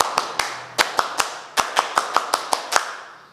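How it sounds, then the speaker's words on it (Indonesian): A Scout group's rhythmic clap, the tepuk pramuka: a patterned sequence of sharp, close hand claps, about fourteen in all, grouped in quick beats with short pauses between them. "Satu kali tepuk pramuka."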